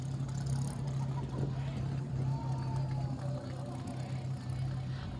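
A truck rolls past in a high school senior parade, its low engine drone and road rumble steady and close, with faint crowd noise mixed in.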